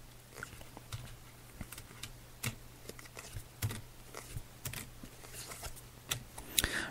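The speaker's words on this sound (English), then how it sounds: "I'm just laying out the cards now." Tarot cards are laid out on a table, making soft flicks and taps at an uneven pace, close by and fairly quiet, with no talking.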